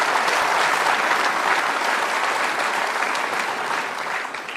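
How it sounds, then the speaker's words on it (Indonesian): Studio audience at an Indonesian television talk show applauds loudly and steadily, a dense, continuous wash of clapping that holds for several seconds and eases slightly at the end. "Kita kasih tepuk tangan."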